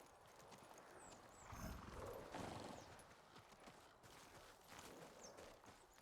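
Horse hooves clip-clop steadily in Ghost of Tsushima, a mounted walk near a castle stable area, with an occasional whinny and a busy in-game ambient bed around the footfalls.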